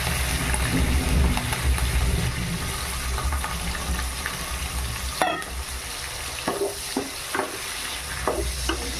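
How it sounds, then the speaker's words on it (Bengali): Shrimp coated in salt and turmeric fry in oil in a pan, a loud close sizzle with stirring scrapes and a few sharp clatters of the spatula against the metal, no voices. "আবারও ওই তেলেতেই ভেজে নেব নুন হলুদ মাখিয়ে রাখা চিংড়ি মাছ"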